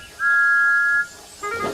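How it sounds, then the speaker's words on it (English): A steam engine whistle from Thomas the Tank Engine sounds once, a single steady tone held for nearly a second, loud and close, followed by a brief second whistle-like burst. "The two were interrupted by the whistle of Thomas the Tank Engine"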